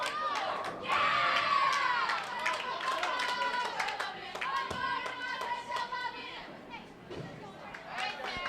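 A crowd of fans at a collegiate team championship final, cheering, clapping and chattering steadily throughout, with voices shouting over a broad wash of applause that swells early and stays loud.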